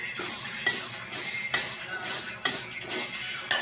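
Vermicelli roasting in a pan while being stirred, a soft dry rustle punctuated by four sharp metallic spoon clinks against the pan at roughly one-second intervals.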